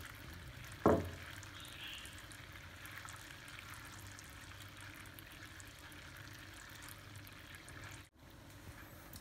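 Caramel cooking in a pan, a faint steady bubbling sizzle that runs evenly, with one brief clunk near the start and a short break near the end.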